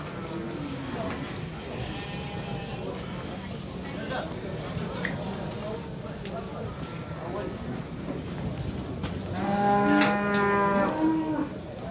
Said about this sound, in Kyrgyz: Мына мындай кичинекей музоолор.